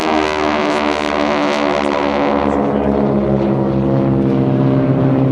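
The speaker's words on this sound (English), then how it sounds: "Watch overhead, right from behind you, as two FACs, call sign GEICO 1 and 2, are arriving over a target area that was identified." Two forward air control propeller aircraft passing overhead at an air show, a loud droning engine hum with a steady harmonic whine that shifts as they fly by.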